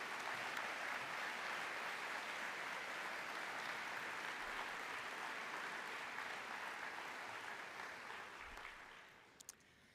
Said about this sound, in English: let's give her a celebratory round of applause for her resilience and accomplishment